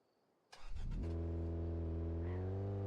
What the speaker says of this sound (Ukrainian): Працює машина.